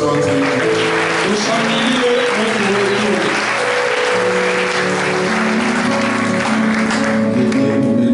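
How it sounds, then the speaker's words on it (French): Congregation applause during a Sunday church service: loud, continuous clapping from a packed room for the full length, with sustained musical tones beneath and a few voices mixed into the crowd. "Applaudissons notre Dieu."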